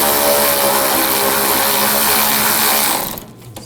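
A power tool tightens a sway bar link nut on a 2006-2009 Audi S4, giving a loud, continuous buzzing whir up close that cuts off sharply near the end.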